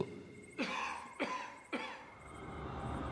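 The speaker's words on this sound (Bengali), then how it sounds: "প্রথমে একবার কেউ কেশে উঠল।" Three separate coughs, evenly spaced about half a second apart, fairly close, over a quiet room background.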